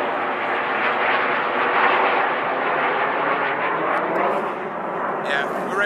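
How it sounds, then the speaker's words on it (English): Airplanes passing overhead close to an Air Force base on a quiet college campus during a holiday break, heard as a steady, loud broadband jet roar that fills the whole clip with no talking. "so planes always fly over"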